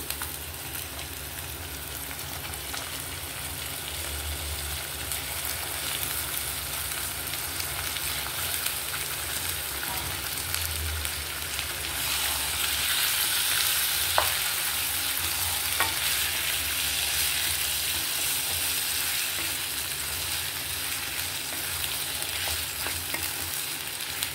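Half a kilo of chicken frying with ginger-garlic paste in a pan gives a steady, close sizzle with occasional stirring scrapes, continuous and unbroken for the whole stretch, growing slightly louder toward the end.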